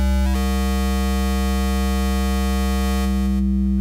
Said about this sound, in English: in the trash there's a lot more high frequency distortion going on, which is really nice